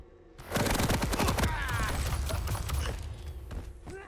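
A rapid burst of automatic gunfire rattles out in a competitive match of a shooter game, loud and close, followed by a few seconds of fading echo.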